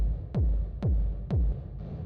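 A deep techno kick drum drenched in reverb, three heavy booming hits at an even, slow pulse, each with a descending pitch sweep and a rumbling tail that washes into a low hum between beats.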